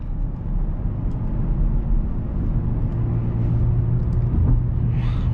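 Steady low engine rumble from a 1998 Lexus GS300 with 140,000 miles while driving, a continuous even drone heard from inside the cabin with no talking.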